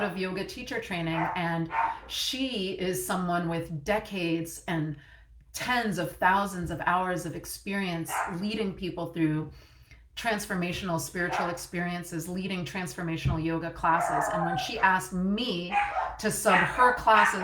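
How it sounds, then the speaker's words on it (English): Small dogs bark and yip intermittently in the background of a room while someone talks continuously over them. "sorry about my dogs"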